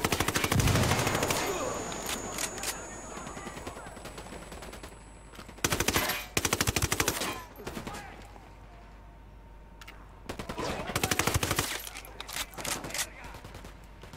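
Gunfire in the tactical shooter game Ghost Recon: Wildlands: loud bursts of rapid automatic shots come in clusters with quieter gaps between them, and a voice is heard faintly at moments.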